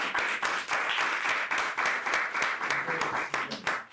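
Audience at a Quitman, Georgia city council meeting applauds EMS staff: loud, sustained clapping with distinct individual claps close by, continuing steadily and tapering slightly at the end.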